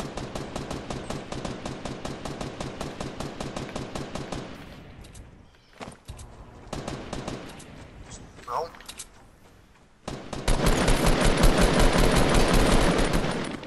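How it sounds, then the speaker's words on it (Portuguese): Rapid automatic gunfire from the video game Fortnite, dense bursts loud up front, a brief lull with scattered shots, then a sustained heavy barrage near the end, with players talking over it. "Atira lá onde o Blarno tá atirando."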